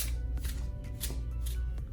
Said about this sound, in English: Okay, Liz, I'm gonna take a moment to shuffle for that question and then lay the cards out.